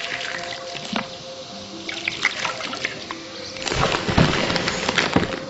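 Water poured in a fantasy puzzle video game, a splashing trickle that starts softly and swells into a louder gushing pour toward the end.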